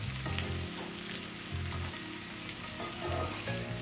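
Ham steaks and home fried potatoes with fresh garlic sizzle and crackle steadily in a pan, a constant close frying hiss with a low cooking hum beneath, no voices.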